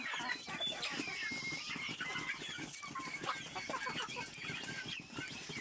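Native village chickens cluck and murmur steadily close by, a soft continuous flock chatter with occasional sharper calls and no talking over it.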